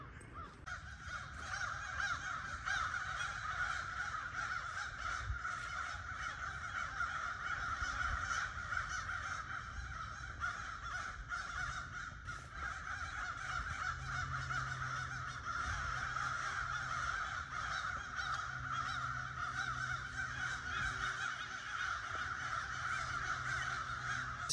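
A huge flock of over a hundred crows caws all at once in the middle of the woods, a dense, continuous overlapping chorus that stays loud and steady throughout with no talking.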